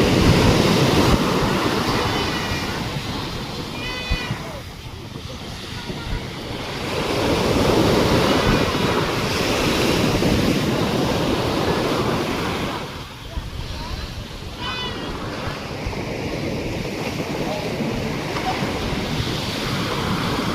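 Ocean waves crash and roll continuously, a loud surging roar that swells and recedes with wind buffeting the microphone.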